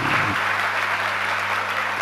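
Broad, steady audience applause fills the whole stretch at a constant level with no pauses, from a crowd at a religious discourse by Vidhya Sagar Ji Maharaj.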